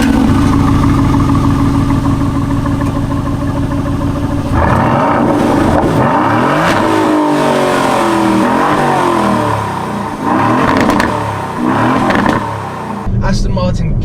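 An Aston Martin DB11 engine with AMG-derived block in sport mode, idling steadily, then revving with a rumbling exhaust in several loud surges, with a person talking over it.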